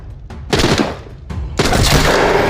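Gunfire in a video game right after reloading: two loud, close bursts of rapid shots, the second longer and sustained, with no talk over them.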